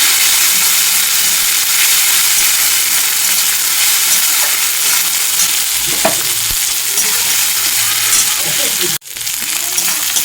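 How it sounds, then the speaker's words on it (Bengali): Ginger and garlic sizzle steadily in a hot pan, a loud, continuous frying hiss with occasional stirring clinks, then a brief sharp knock near the end. "আদা রসুনটাকেও খুব ভালো মতো কষিয়ে নেব যতক্ষণ না কাঁচা গন্ধটা চলে যাচ্ছে"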